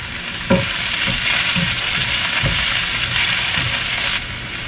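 Green chillies and garlic frying in hot oil in a wok, a constant bright sizzle broken by repeated low scraping thumps of stirring, close and loud with no talking.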